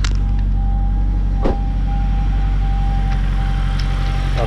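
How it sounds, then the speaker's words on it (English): Honda car engine warming up after clutch installation, a steady low idle drone with a faint whine, heard close with a brief knock partway through. "So we clean up, we warm up the car."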